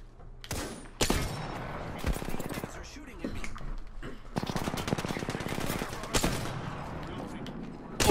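Enemy gunfire in the battle royale shooter Apex Legends, rapid automatic bursts and single sharp shots in repeated volleys, loud and close, with a voice speaking at times underneath.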